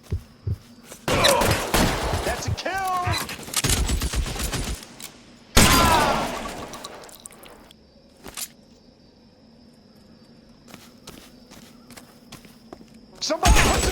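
Gunshots ring out in the 1940s crime game L.A. Noire, a burst of loud cracks followed by isolated booming shots spaced over several seconds, with a voice talking between them.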